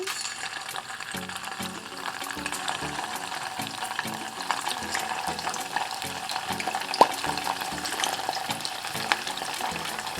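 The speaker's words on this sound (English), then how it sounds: "I'm going to fry in small batches here." Food frying in small batches in hot oil in a tall-sided pan for Vietnamese crab and pork noodle soup, a steady, close bubbling sizzle throughout with a few faint clinks.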